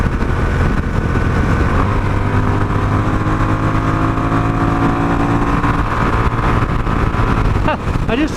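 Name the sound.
Honda Rebel 1100 DCT motorcycle engine while riding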